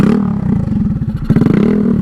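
A Honda Ruckus scooter that sat unridden for weeks idles roughly, its small engine chugging in a loud, close, uneven putter that wavers and stumbles.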